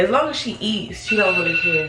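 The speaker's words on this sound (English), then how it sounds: "Oh, that's my alarm." A phone alarm sounds as a steady, high electronic tone that starts partway through and continues beneath someone speaking close up.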